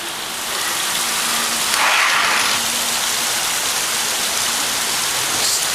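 Steady rain pours down in a continuous broadband hiss, close and even throughout with a brief swell near the middle, falling on surfaces with no voices present.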